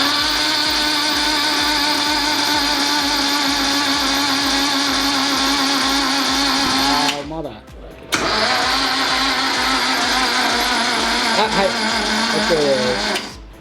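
An old Datsun 240Z S30 idles loudly after sitting unused for five years, a steady buzzing engine drone close by that dips and briefly cuts out partway through before resuming, with voices over it.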